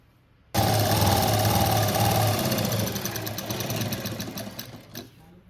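Sewing machine stitching a blouse with a boat neck, starting abruptly into a fast, loud mechanical whir that runs steadily, then slows and fades before stopping near the end.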